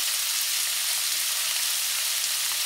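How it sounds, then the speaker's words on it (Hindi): Garlic and salt frying in a pan for shahi paneer, a steady hissing sizzle, close and even, with no breaks or other sounds over it. "इसमें हम नमक और लहसुन दोनों डाल देते हैं,"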